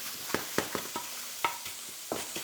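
Shiitake mushroom slices sear in a hot pan at high heat, charring at the edges: a steady close sizzle broken by several sharp scraping stirs at irregular intervals, with no talk.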